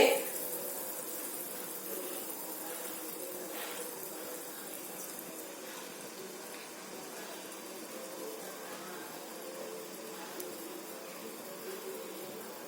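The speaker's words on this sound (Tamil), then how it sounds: "இப்போ தண்ணி நல்லா கொதிச்சிருச்சு" Water boils in a kadai on a stove at medium flame while wheat flour noodles are being made, a soft continuous bubbling and hissing that stays fairly quiet throughout.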